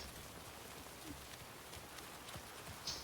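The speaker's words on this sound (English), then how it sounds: "It is a really pleasant rain there. Good sound effects." Rain falls in the video game Alan Wake 2 as a faint, even patter of drops on surfaces. It continues unbroken, with a small brighter tick near the end.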